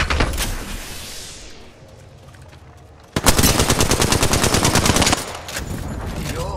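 Gunfire in the shooter game Fuse: a scattered crackle fades to a quiet lull, then a loud, rapid automatic burst rattles for about two seconds before dropping to a lower, steady rumble of fire.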